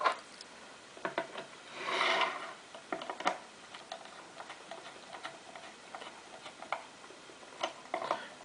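Wire connections on a coil block are tightened with small, close ticking clicks and light scraping, irregular and fairly quiet, with one brief rustling swell.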